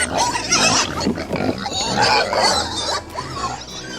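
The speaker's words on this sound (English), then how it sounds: "Miss Scarlet, our sow here, is of the U.S. Princess Anne bloodline" A Gloucestershire Old Spots sow grunting and snorting loudly and close by, a continuous run of deep rhythmic grunts with some squealing tones over about four seconds.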